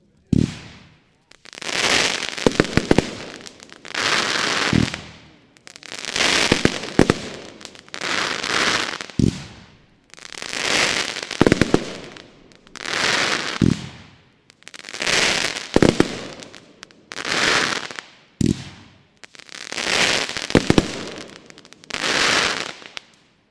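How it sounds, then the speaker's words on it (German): A Pyrocentury Mad Dog fireworks battery of 25 shots at 30 mm fires a long series of loud, crackling bursts, each launch followed by a sharp report, arriving in rhythmic clusters with short gaps between them. "Weiter geht es mit der Nummer 44 aus dem Hause Pyrocentury Mad Dog, 30 mm, 25 Schuss"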